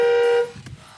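A Toyota Tundra 12V ride-on toy truck sounds a loud, steady electronic horn beep for about half a second, then it cuts off into quiet background rustle.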